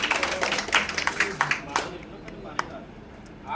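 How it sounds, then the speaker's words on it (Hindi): An audience claps to welcome a party official being honored at an AIMIM party organisational event, with brisk applause that fades after about two seconds and is mixed with talk. "इनका वही तालियों से स्वागत कर दिया जाए"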